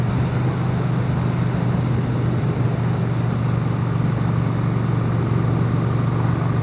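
A 2006 Honda Shadow VT750 motorcycle in fifth gear pulls steadily up a hill, its engine a loud, constant low drone mixed with broad wind rush, continuous throughout with no talk.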